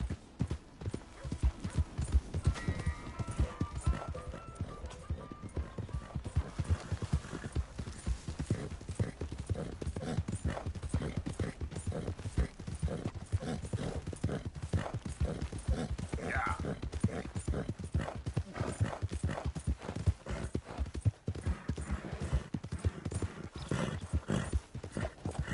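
Horse hooves in Red Dead Redemption 2 clip-clop steadily at a trotting rhythm, close and continuous, with a brief whinny and occasional talking voices.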